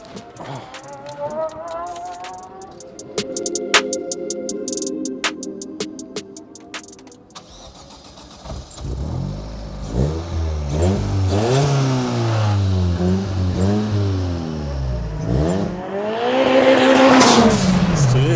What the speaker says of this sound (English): Just rev it up for us as well